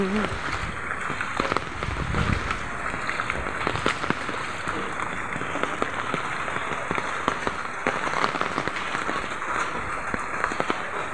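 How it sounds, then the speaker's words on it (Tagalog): Heavy rain pours in a dense, constant hiss and patter. A voice speaks briefly beneath the downpour, which stays loud and steady throughout. "Ang lakas ng ulan."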